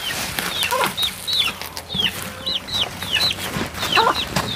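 Several chickens cluck and chirp in short, overlapping calls, close by, with a light scratchy background.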